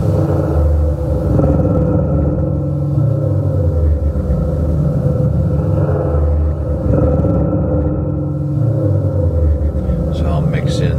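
A solenoid driven by a Korg Monotron synth and picked up through a contact mic gives a steady, loud low rumble with pulsing mechanical drone and slow swells, continuous throughout.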